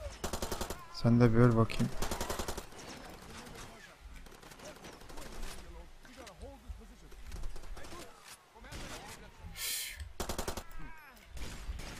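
Heavy machine gun fire in the video game Far Cry 2, with rapid bursts of shots coming in loud volleys between quieter stretches and someone talking over the gunfire.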